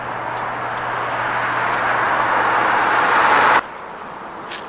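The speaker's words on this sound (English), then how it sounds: "Oh, car's coming." A car approaches with a swelling broadband road roar that peaks as it passes close, then cuts off abruptly, leaving a quieter background.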